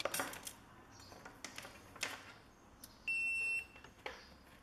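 A multimeter on continuity mode beeps while probing two shorted diodes on a circuit board, giving one steady electronic tone of about half a second, with faint probe clicks and handling ticks around it.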